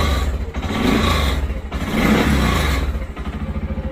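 A small car's engine idles steadily after a battery replacement, a close, even, rhythmic putter with slight rises in pitch, running alone without voices.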